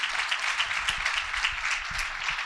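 An audience at a public policy forum applauds the students, a dense, even wash of clapping held at moderate level throughout, somewhat distant and without speech.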